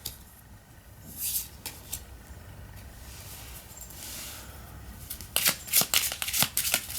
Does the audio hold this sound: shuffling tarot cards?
yes